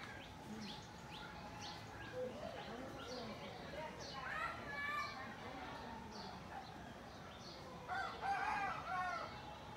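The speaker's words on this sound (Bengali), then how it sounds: "যেগুলো হচ্ছে দেশি মুরগি" Free-ranging local village chickens cluck and a rooster crows, faint and somewhat distant, in brief calls spread through the clip, with people talking at a distance.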